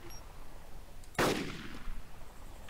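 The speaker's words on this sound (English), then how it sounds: "I hear gunshots, guys." A single sharp gunshot in the Arma 2 video game cracks out once partway through, loud and abrupt against a quiet background hiss, followed by a brief fading tail.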